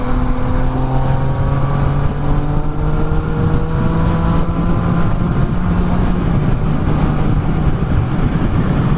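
A Yamaha XSR900 motorcycle with a full titanium Akrapovic exhaust roars loudly and steadily, its engine tone climbing and shifting through revs over constant wind rush, with no talking.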